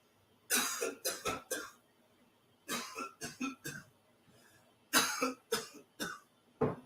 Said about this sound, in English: Instead of saying mo, mo, mo, I was coughing 3 times.